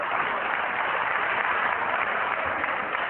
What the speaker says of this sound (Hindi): मैं चाहता हूं कि आप सब लोग ताली से उसका स्वागत करें।